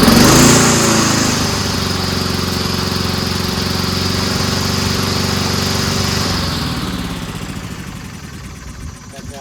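Honda-engined push lawn mower with a good bag and a broken self-propel drive, running loud and steady up close with a harmonic drone, then its engine note drops and fades toward the end as it winds down.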